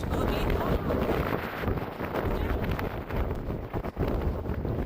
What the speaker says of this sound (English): It's so windy. Like the wind is about to blow me.